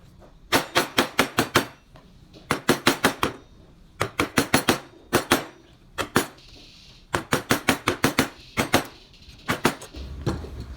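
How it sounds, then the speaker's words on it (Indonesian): A small gouge chisel is tapped with a mallet into a carved wooden gebyok panel, giving sharp, close wooden knocks in quick bursts of four to six strikes separated by short pauses. "bisa menggunakan pahat kol cebek atau kol ceper yang kecil seperti ini"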